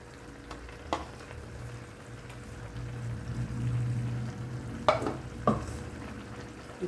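Baby corn fries in a pan with ground pepper and fennel powder. A low, steady sizzle runs throughout, and a few sharp spoon taps and scrapes mark the stirring.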